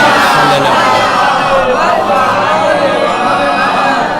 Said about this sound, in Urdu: باواز بلند نعرے صلوات سے بھیجیں.